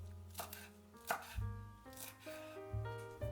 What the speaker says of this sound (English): Cut 10 grams of cilantro into sections.